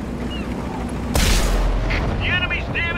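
The AMX CDC tank's cannon fires once in World of Tanks, a single loud boom with a sustained rumbling tail, followed by short synthetic game tones and beeps.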